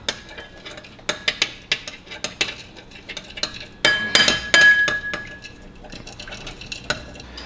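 Spoon stirring a melted cheesecake mixture in a bowl, with irregular sharp clinks and scrapes of metal against the bowl, close and quick, with a brief busier flurry midway.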